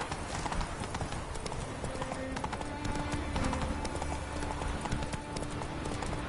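Roach, a horse in The Witcher 3, clip-clops at a steady brisk gait with hooves beating close and loud over a constant background of game ambience.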